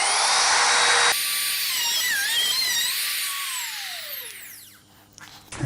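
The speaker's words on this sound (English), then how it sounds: "we'll check the depth of cut of this router bit" A corded router cuts a hardware template, a loud sustained high whine with shifting pitch as the bit moves through the material, then spinning down and stopping near the end.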